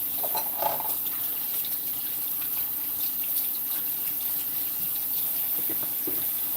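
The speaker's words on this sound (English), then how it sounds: "Wash my hands, of course." Tap water runs steadily into a kitchen sink while hands are washed during cooking, a continuous close hiss and splash with no talking.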